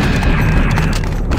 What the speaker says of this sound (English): At least they're shooting each other